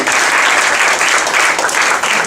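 A congregation claps loudly and continuously in a church service, a dense close wash of many hands without pause.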